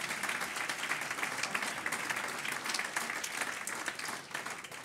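Steady applause from an audience of about 400 people at a political public meeting in a Palais des Congrès, dense continuous clapping filling the hall throughout without a break.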